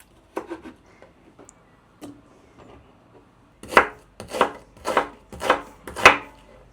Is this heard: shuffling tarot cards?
no